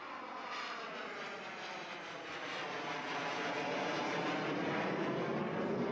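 An F-5 Freedom Fighter jet approaches a rough secondary runway, its engine roar rising and swelling steadily over several seconds, broad and loud with no voices.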